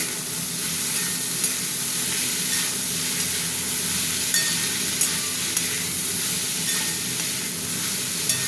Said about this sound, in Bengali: গোলমরিচ দিয়ে রাইসটা একটু নাড়ি।